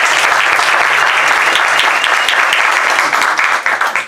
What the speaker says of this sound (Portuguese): eu vou pedir mais uma salva de palmas para Sol Bueno